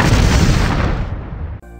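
Cartoon-style explosion sound effect: a loud, sustained boom of broad rumbling noise that fades over about a second and a half, then cuts off abruptly into a short, faint ringing tail.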